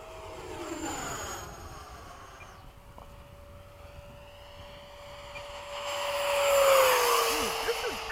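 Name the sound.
F-15 jet flying past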